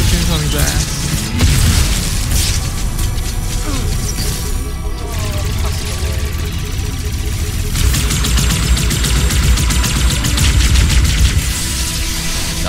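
Gunfire and heavy explosions from the Halo 2 Anniversary campaign in the Quarantine Zone, a dense, loud barrage of booms and shots running throughout, with game sounds layered densely across the whole stretch.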